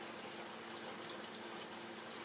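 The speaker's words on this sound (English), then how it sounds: "What's happening is the water jacket is being stirred by this pump here." A standard central heating pump circulates water through the jacket of a plastic fermenter container, giving a faint, steady hum and trickling flow with a constant tone running underneath, with no talking.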